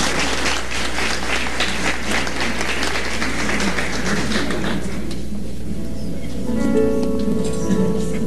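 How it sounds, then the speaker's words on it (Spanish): An audience at a Catholic concert applauds a choir, a dense wash of clapping that thins out and fades after a few seconds as a sustained tone rises underneath. "Un aplauso para ellos"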